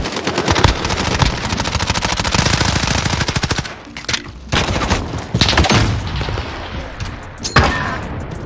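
AS VAL rifle fire in a Search and Destroy shooter match, with long rapid automatic bursts, loud and close, then a short pause and further shorter volleys.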